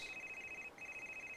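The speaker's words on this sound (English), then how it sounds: "Phone." Telephone ringing in the point-and-click game Gray Matter, a steady electronic ring tone that pauses briefly and resumes, quiet and close, with no talk over it.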